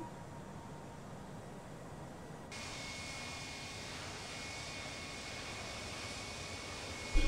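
Steady roar of Airbus A321 jet engines in the FSX flight simulator during circuit practice at East Midlands, a constant broadband rush that brightens and rises partway through, continuing evenly to the end.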